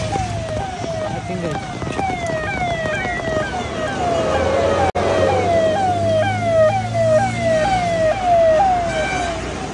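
A vehicle arrives along a flooded road during heavy rain, its wailing siren rising and falling repeatedly over steady rain and water noise, with a low engine hum building midway.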